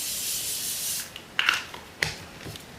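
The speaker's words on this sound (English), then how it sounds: "My Morphe, that's my favorite spray." Morphe makeup setting spray misted from a bottle, a steady hiss at the start followed by a few short pumps and rubs, close and fairly quiet.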